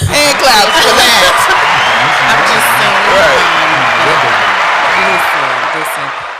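Audience applause with cheering and whoops from a podcast studio crowd, a dense, steady wash of clapping that holds for several seconds before tapering slightly at the end.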